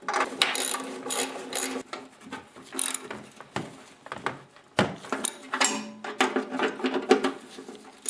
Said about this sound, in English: grab a 1/2 inch socket and a ratchet, and with the wrench hold the nut on the other side